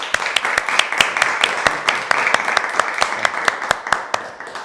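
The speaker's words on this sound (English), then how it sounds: "let's give my hero a welcome, a big round of applause." An audience claps at a poetry group's 34th anniversary celebration, with steady, sharp hand claps repeating close by at a brisk even pace for several seconds and no voices over them.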